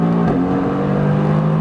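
A Mercedes-AMG GT R engine drones loud and close from inside the car on a track, its steady rev dipping briefly as an upshift goes through, then pulling on with a strong buzzy tone.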